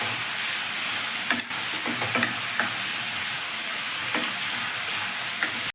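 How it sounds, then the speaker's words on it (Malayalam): Onion and tomato frying together in a pan, a steady, close sizzle with several soft spoon scrapes scattered through it as the mixture is stirred. "ഇനി നമുക്ക് തക്കാളി ഇടാം. ഇനി നമുക്ക് ഇളക്കി കൊടുക്കാം."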